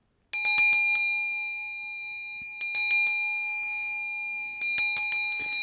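A bright metal bell rings in three separate bursts, each a quick cluster of strikes that leaves a long, shimmering ring fading between them.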